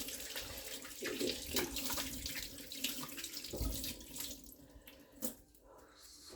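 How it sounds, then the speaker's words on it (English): Tap water running into a kitchen sink while hands are washed, a steady close splashing hiss with shifting gurgles as the hands move under the stream, no talk. "I'm gonna wash my hands"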